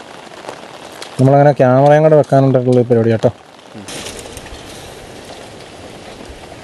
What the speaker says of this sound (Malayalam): നോക്കിയിട്ട് നല്ല മഴയാണല്ലോ